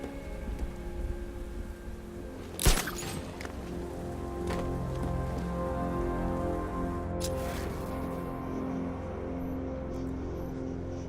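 Steady rain in the video game Batman: Arkham Knight patters on surfaces as a dense hiss, with one sharp crack early and a faint knock later, no voices.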